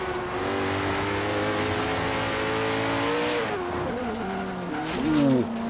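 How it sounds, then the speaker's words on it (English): A Koenigsegg Regera hypercar in Forza Horizon 3 drones steadily at high revs, then the engine note dips and rises through quick gear changes, loud and close with no voices. "It just sounds like an Regera, really."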